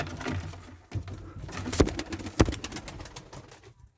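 Tumbler pigeons in a loft give soft, low cooing calls repeated through the clip, with a couple of sharper bursts of wing flutter or movement among the birds nearby; no one speaks.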